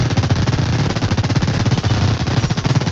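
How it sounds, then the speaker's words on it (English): Light machine gun in a video game shootout fires a long, dense, unbroken burst of rapid shots, loud and close, with no voices. "God, that's a lot of bullets. What the is he carrying? An LMG?"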